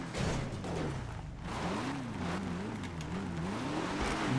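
A car engine revs in the GTA video game, a steady synthetic motor whine whose pitch rises and dips in waves throughout, with no talking.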